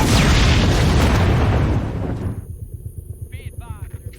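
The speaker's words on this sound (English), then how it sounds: "there's been an explosion" A big explosion at the border booms loud and close, then rumbles and fades into a lower, pulsing roar, with faint voices near the end.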